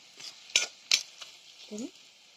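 Taro pieces go into hot oil with cumin, turmeric and salt, giving a soft steady sizzle broken by a few sharp utensil clinks and a brief scrape as the mix is stirred, close but quiet.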